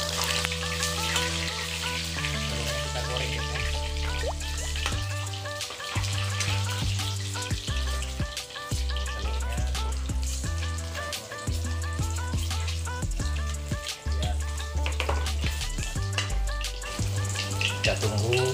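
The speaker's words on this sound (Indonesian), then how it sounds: "kita masak terong goreng terong dulu" Eggplant fries in a pan, a steady crackling sizzle with light spattering that runs continuously under background music.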